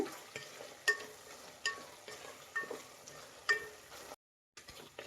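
Radish sambar cooking in a pot on a medium flame, stirred with a spoon that scrapes and knocks at a steady pace of roughly one stroke per second over a faint low simmer.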